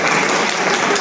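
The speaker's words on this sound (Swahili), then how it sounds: "Makofi." A room of students claps together in a dense, steady burst of applause lasting about a second.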